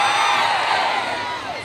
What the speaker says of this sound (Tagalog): Pwede pa rin gamay nga palakpak